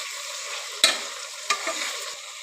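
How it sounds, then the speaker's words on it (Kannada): Vegetables, peanuts and green chillies frying in hot oil in a pan for bisi bele bath, a steady close sizzle with two sharper stirring clatters breaking through. "ಸ್ವಲ್ಪ ಇನ್ನೂ ಫ್ರೈ ಮಾಡ್ಕೋಬೇಕು."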